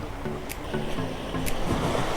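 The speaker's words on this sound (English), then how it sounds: "This is the creek, that is the Arabian Sea." Arabian Sea waves at the Devbag–Karli creek confluence near Malvan, a continuous near wash of surf with faint wind and occasional small splashes, no voices.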